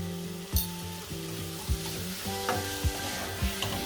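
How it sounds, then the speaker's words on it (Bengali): Spice paste with tomato for a rohu fish curry with potato and pointed gourd, frying in a pan with a steady sizzle and rhythmic spatula knocks and scrapes repeating every second or so, close and without talk. "মশলাটাকে আমি কষাতে থাকি টমেটোটা নরম না হওয়া পর্যন্ত"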